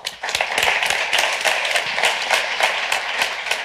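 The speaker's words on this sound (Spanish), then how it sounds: "un aplauso para Felipe González, por favor" An audience applauds for Felipe González at a Fundación Telefónica event, the hand claps distinct and fairly close, forming a brisk, uneven rhythm that holds steady throughout.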